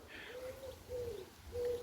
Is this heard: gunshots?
no